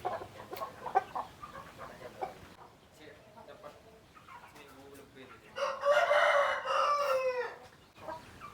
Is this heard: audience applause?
no